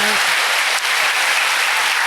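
Loud, continuous applause from a congregation during a Remnant Day church worship service, thick and steady throughout, with a brief voice fragment at the very start.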